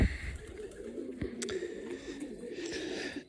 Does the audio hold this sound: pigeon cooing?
yes